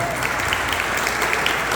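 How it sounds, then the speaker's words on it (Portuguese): A church congregation applauds during a Brazilian worship service, a steady dense wash of clapping sustained throughout at moderate loudness, with a faint voice mixed in. "Você pode dar um aplauso ao Messias?"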